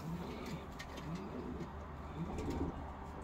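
A short-beaked pigeon coos softly in a pigeon loft, with low repeated coos rising and falling against a quiet background of faint chirps.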